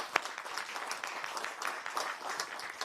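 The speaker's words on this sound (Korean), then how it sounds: "우리 모두 다 함께 실행으로 옮기자는 그런 결의를 다지는 뜻에서 다 함께 큰 박수 한번 부탁드리겠습니다." Applause at a Democratic Party meeting in a hall on local election nomination plans: a steady, moderately loud wash of many hands clapping, with a sharper clap near the start and no voices over it.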